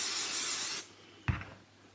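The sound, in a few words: temporary spray adhesive sprayed onto a shirt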